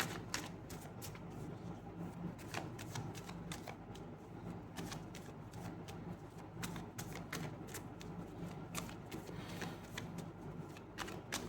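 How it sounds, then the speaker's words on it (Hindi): Tarot cards are shuffled and drawn from a deck: a continuous soft riffling and flicking of cards with rapid crisp ticks throughout, close and fairly quiet, with no voices. "कार्ड मैं खुद निकालूंगी, अपने से आया हुआ कार्ड नहीं लूंगी"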